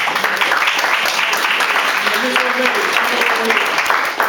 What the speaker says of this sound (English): Now you can give the candidates a round of applause.